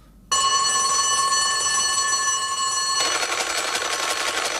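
A cartoon telephone bursts into a loud, sustained electric bell ring right after a short quiet moment, the clanging turning harsher and more rattling midway through, with no voices over it.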